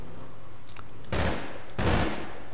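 Gunfire in the video game APB Reloaded: two short, loud bursts of rapid shots, close by, separated by a brief pause over a low background hum.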